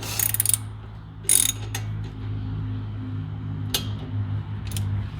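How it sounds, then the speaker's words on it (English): A ratchet tightens a bolt during a KYB strut install, with short bursts of rapid clicking near the start and a few single clicks later over a low steady hum. "Let's tighten it down. Not too tight. Just enough to snug it."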